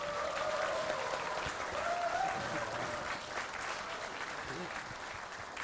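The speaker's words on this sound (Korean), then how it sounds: "혹시 고생하셨다고 박수 한 번만 주시겠어요?" Audience applause at a live public radio broadcast in Jeonju: a dense, steady round of clapping from a crowd lasts the whole stretch, with a thin whistling tone drifting over it early on.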